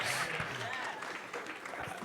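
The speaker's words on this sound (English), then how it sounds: "Round of applause for yourselves, people." Brief applause from an audience at a keynote dinner. A short burst of many hands clapping fills the room at moderate volume.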